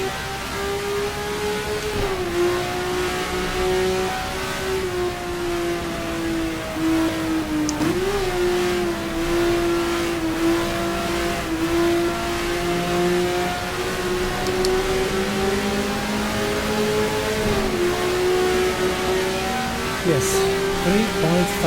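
Race cars, including a Ferrari, in the racing game GTR2 with mods on the Mexico City circuit, one engine droning steadily with pitch dips at gear shifts, loud and continuous for over twenty seconds, with a commentator talking over it.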